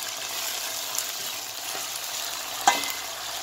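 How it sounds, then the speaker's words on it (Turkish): Ivy leaves frying in a pan and stirred with a wooden spoon, a steady bright sizzle with occasional soft scrapes and one sharper knock near the end, close up and alone. "Pasta kaşıkla karıştırıyoruz."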